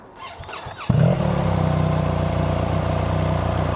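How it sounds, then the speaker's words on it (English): A BMW boxer-engine motorcycle at a dealership fires up after some brief handling noises, then settles into a loud, close, steady throbbing idle that continues to the end. "I love the Boxer engine sound."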